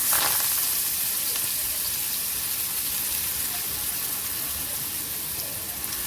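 Onion, tomato, bay leaf, garlic and curry leaves sauté in a hot pan, a loud steady sizzle close by that is strongest at the start and continues without talk.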